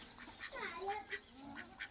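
Several ducks quack repeatedly in a faint, slightly distant chorus of nasal calls.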